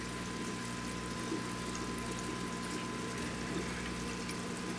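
Outdoors, a garden hose sprays water over the pre-filter sponge of an FX6 aquarium canister filter, making a steady, even rushing hiss up close with no talking.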